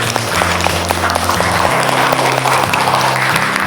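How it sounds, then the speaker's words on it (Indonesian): Steady, loud applause from a crowd, continuous throughout with a low hum of voices and tones underneath. "Oke, tepuk tangan dong untuk kita semua."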